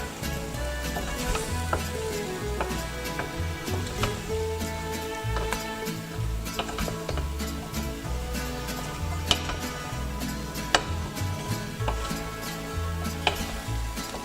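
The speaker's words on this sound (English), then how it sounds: "Give this a stir and coat all the vegetables in the spices and oil mixture." Vegetables for a Maltese cauliflower stew fry in spices and oil while being stirred, giving a steady close sizzle broken by scraping and tapping strokes, with no talking.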